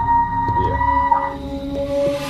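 A recorded animal call blasts from a loudspeaker outdoors in a bayou, a loud, sustained, wavering tonal howl that bends in pitch like a siren over a low background rumble. No one speaks.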